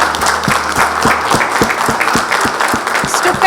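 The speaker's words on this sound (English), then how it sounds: "let's give them a big round of applause" A crowd applauds steadily, with loud, even clapping and a regular rhythmic beat running underneath throughout.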